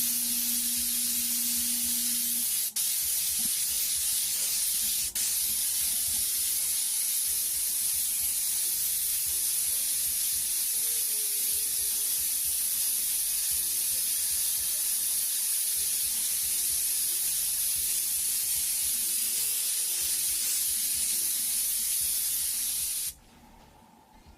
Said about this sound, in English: we'll just take this, the dark color, the red oxide color, and we're going to just spray right over top of it